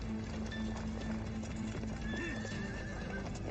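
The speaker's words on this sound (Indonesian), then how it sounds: "Tiga suara berat dan satu suara ringan dari kuku kuda, dan kuda-kuda itu tidak berlari cepat." Horse hooves clip-clop steadily at an unhurried pace, three heavy beats and one light one, from warm-blooded cavalry horses, heard continuously at moderate volume with a faint whinny-like tone beneath.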